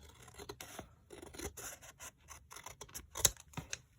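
Scissors snip and rasp through necktie fabric as it is trimmed open, a series of quiet, close crisp cuts and rustles at an uneven pace.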